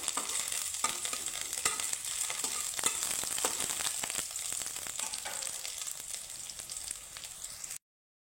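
Green chili, curry leaves and ginger frying in hot oil for a kachori recipe, a close crackling sizzle with sharp spitting pops scattered throughout, heard alone before fading out abruptly at the end.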